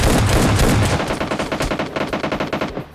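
Sustained automatic gunfire in a battle royale video game, loud and close, with a dense continuous burst that breaks into rapid rhythmic shots over about three seconds, no voices.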